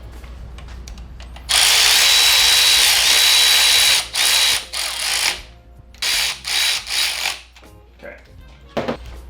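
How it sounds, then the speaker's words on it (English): An electric ratchet runs 10 mm bolts into an aluminum engine part during a cam and valvespring install on an LS-swapped Miata, a long loud whirring burst followed by several shorter bursts, with no talk over it. "We'll run them in with the electric ratchet, but then we'll actually tighten them by hand."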